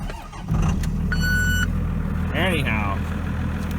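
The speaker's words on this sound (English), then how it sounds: "listen to that Cummins." A low Cummins diesel engine idles and revs close by with a deep steady rumble, while a person speaks briefly over it.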